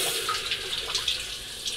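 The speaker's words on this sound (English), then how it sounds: "rinse with warm water." Warm water runs and splashes into a distilling boiler as it is rinsed after being emptied of wash, a steady close hissing pour with light splashing throughout.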